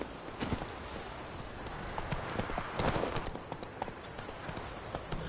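Hooves of the horse Roach clip-clopping at a walk in The Witcher 3: Wild Hunt, a continuous uneven patter of close hoof falls over a rumbling ambient background.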